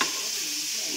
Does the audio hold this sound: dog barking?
no